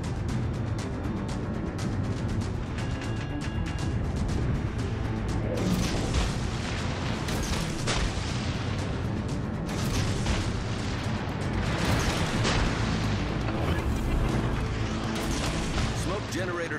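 Heavy warship guns firing in World of Warships Legends, with booming salvos and explosions rolling over a dense, constant layer of battle noise while a voice gives commands over the action.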